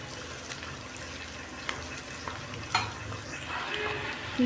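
Paneer dish ingredients roast in a pan with a faint, steady sizzle, broken by a few soft clicks and scrapes of utensils.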